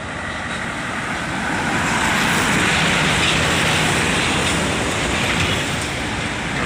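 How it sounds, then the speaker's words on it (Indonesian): A Sumatran intercity bus on the eastern cross-Sumatra highway rumbles past, a loud broadband engine and road roar that swells to a peak midway and then eases slightly as it goes by. "ada bis lagi tuh teman-teman"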